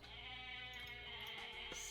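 Goats bleating in the video game Age of Mythology, a sustained nasal animal cry, moderately loud and alone over a steady game background.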